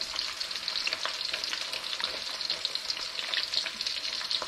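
Thai omelette egg frying crispy in hot oil, a steady loud close sizzle with crackling bits spitting throughout, no voices.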